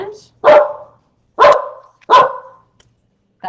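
A dog barks three times in sharp, loud, closely spaced barks indoors at home, with a fourth bark starting at the end and silence between.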